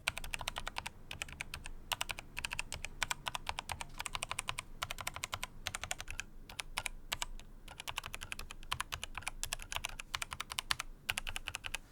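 Keycaps striking switches during fast typing on a mechanical keyboard, a dense run of close, crisp clicks and clacks in quick irregular rhythm with brief pauses, heard alone without talk.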